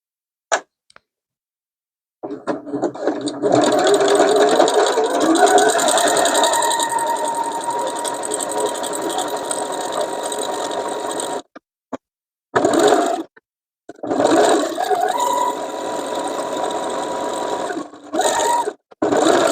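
Sewing machine running in long steady bursts while doing decorative stitching on a fabric patchwork basket, with an extension table fitted; a long continuous whir stops near the end, then a few short restarts.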